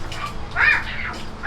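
Captive Florida panther, a cougar, giving a single strained, yowling call that swells and fades within about a second, fairly close and loud over low background noise.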